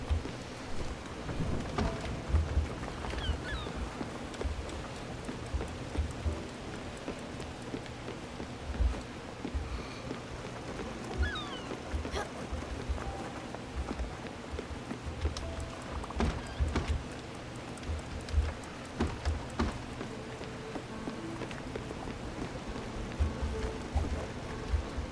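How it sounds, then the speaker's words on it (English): Steady video-game rain falls throughout, dense and continuous, with scattered sharper crackles and low rumbles of thunder mixed in, alone with no voices. "I thought, okay, thunderstorm."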